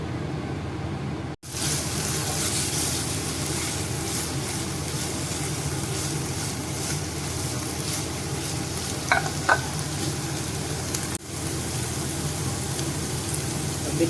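Bread pieces roast in a pan for bread upma, giving a steady, close frying sizzle with light stirring scrapes, broken by a brief pause near the start and another later on.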